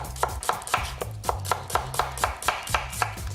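Knife slicing carrots on a cutting board, a steady run of about fourteen sharp, close chops at an even brisk rhythm, with no voices.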